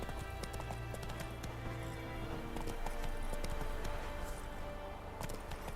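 Roach, a horse in The Witcher 3, gallops with steady clip-clop hoofbeats over a dense game soundscape of background music and ambience, fairly loud and continuous, with a brief whinny-like tone.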